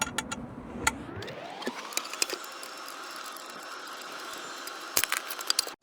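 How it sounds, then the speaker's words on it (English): A power tool takes screws out of aluminum roof rack crossbars on a Ford Bronco Sport. A motor whine climbs in pitch and holds steady, close and fairly loud, with ratcheting clicks and light taps scattered through it. "First, remove the screws from the aluminum crossbars."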